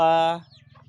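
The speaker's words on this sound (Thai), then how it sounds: "มีแม่ไก่หนึ่งตัวลูกไก่สามตัว" A single loud, drawn-out hen cluck up close from a mother hen with three chicks, followed by a soft low rhythmic murmur of quieter clucking.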